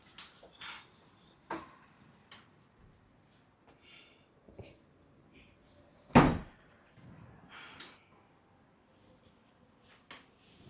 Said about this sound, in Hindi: दरवाजा लगाइए ना।